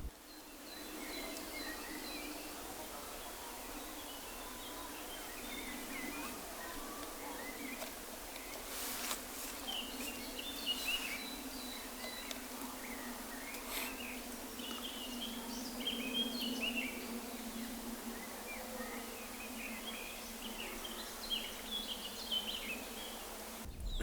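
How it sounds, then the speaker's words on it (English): Faint birds chirp and tweet intermittently outdoors over a steady low hum of insects buzzing in the background. "I'll shut up so you can hear the birds tweeting and all that."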